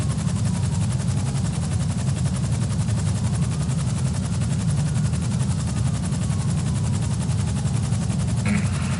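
A police helicopter in the video game GTA spools up for takeoff, a loud, continuous low rotor and engine drone with a steady beating texture and no talk over it.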